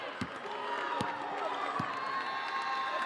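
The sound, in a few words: crowd ovation at basketball game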